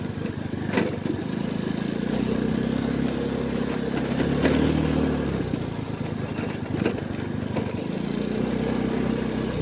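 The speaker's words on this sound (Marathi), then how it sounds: "खूपच आवाज येऊन राहिला आहे आता गाडीमधून" An old vehicle runs with a continuous low engine drone and rattling, with sharp knocks and clatters breaking through every few seconds, loud and close, with no talking.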